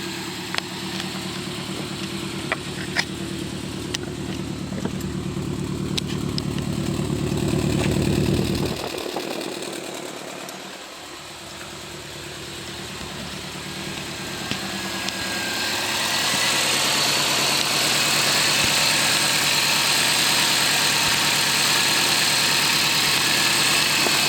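A Subaru STI engine idles steadily and close by after an up-pipe, inlet and turbo install, with a brief dip partway through before the running sound settles into a brighter, louder hum.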